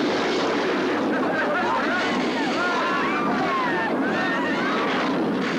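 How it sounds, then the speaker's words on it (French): A Concorde jet roars through a forced landing in a film scene, its engines giving a loud continuous rushing drone under rising and falling whines, with voices talking over it. "Dégagez la piste numéro 3, atterrissage forcé, Concorde en emergency."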